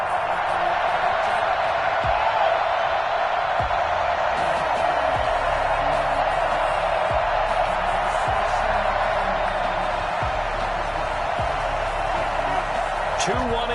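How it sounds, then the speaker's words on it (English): Stadium crowd noise from a Madden football video game, a steady broadband roar of cheering fans that holds at an even level throughout, with faint low thumps underneath. "this crowd is ready to go"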